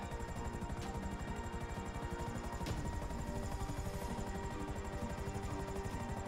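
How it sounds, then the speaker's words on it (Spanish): A helicopter descending in GTA 5, a steady, dense rotor chop with fast regular beating throughout, loud and unbroken. "a ver a qué horas baja este helicóptero."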